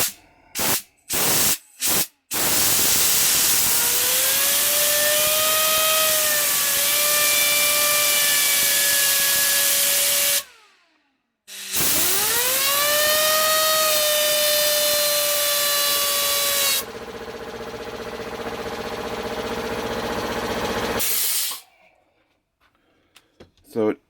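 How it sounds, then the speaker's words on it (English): A PC fan blade driven by the blower of an air compressor spins up with a loud rushing hiss and a rising whine that holds steady, cuts out, then surges again before a noisier burst and a stop. "the blower from the air compressor to spin this blade"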